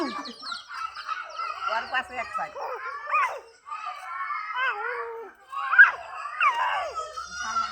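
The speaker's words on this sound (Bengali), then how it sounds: "এই দেখো সামনে কত মুরগি।" Chickens cluck and squawk close by in short, irregular bursts, mixed with a child's and an adult's voices talking and calling out.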